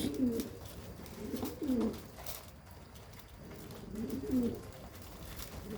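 Pigeons cooing during an evening feeding, soft rolling coos repeated in a slow rhythm, several calls close by and fairly faint over quiet background noise.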